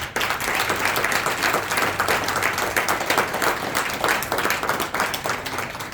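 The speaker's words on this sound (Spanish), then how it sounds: "Denle un aplauso a Dios." Loud, dense applause from a large church congregation at a Christmas service, many hands clapping steadily for several seconds at a constant level.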